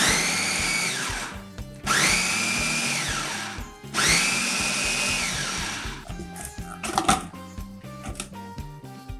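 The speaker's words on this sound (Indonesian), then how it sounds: "blender mangga hingga halus" An electric chopper blending mango whirs loudly in two long bursts with brief pauses, its motor pitch rising as it spins, then slows into clattering and rattling.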